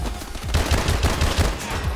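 Machine-gun fire rattles in Call of Duty: Advanced Warfare, with rapid overlapping bursts of shots close by, forming a dense, continuous volley.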